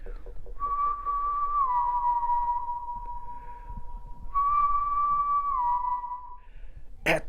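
A person whistling outside a cabin at three in the morning: two long, eerie, gliding whistled phrases that slide downward and hold, moderately distant against a quiet night background.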